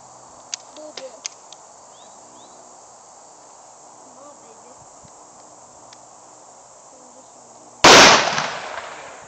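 A Mosin Nagant rifle is fired at a steel plate, giving one loud sharp crack that rings out and decays, after several minutes of quiet insect chirping and a few faint clicks outdoors.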